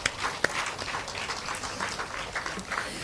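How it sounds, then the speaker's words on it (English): Conference audience applauding panelists at the close of a national law conference panel discussion, a moderate, somewhat uneven patter of claps with a few sharper individual hits, heard from a distance. "Let us give them one more huge, resounding round of applause"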